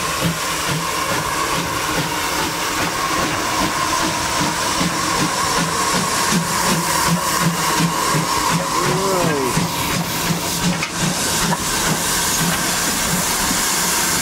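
A coal-fired steam locomotive on a heritage railway hisses loudly and steadily while rhythmic chuffing pulses underneath, with a brief whistle-like tone midway and voices talking over it.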